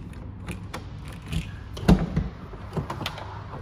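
Sliding door of a packed van being opened during a move, a sequence of close mechanical clunks and rattles with one sharp heavy thud partway through, then lighter knocks.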